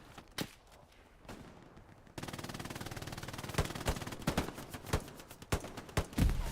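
Machine gun fire in the Hell Let Loose video game at Elsenborn Ridge, sharp bursts of shots after a quiet start, then a sustained loud rattling stretch punctuated by heavy individual cracks.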